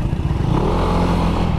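A motorcycle bored up to 180cc with a 63mm chrome bore and forged dome piston runs nearby, its engine chugging and revving in a loud, rough mechanical rumble with some rattling clatter.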